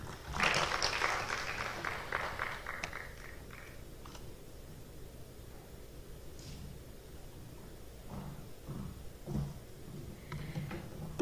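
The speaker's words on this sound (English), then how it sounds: "A round of applause." Audience applause at the opening of an East African Communication Association conference at the University of Dar es Salaam, loudest in the first few seconds and then thinning to a steady, softer clapping that continues to the end.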